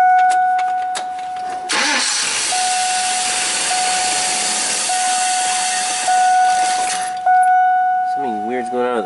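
A GMC 4.8 school bus engine cranks, catches briefly and then stalls during a start-stall fault, loud and close, with a hissing roar throughout and a high whining tone, followed by someone speaking at the end.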